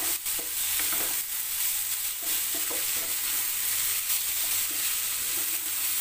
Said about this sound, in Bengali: আলুর সঙ্গে ডুমুরটা একসঙ্গে কষে নেব